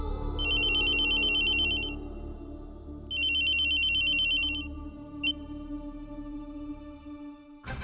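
A telephone rings in two long electronic bursts separated by a pause, left unanswered, followed by a brief click and a low background hum indoors.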